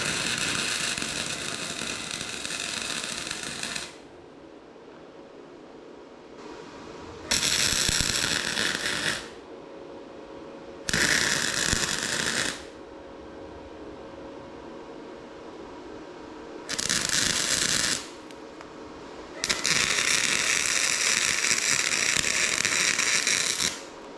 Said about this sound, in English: I'm going to take the welder and go all the way around here.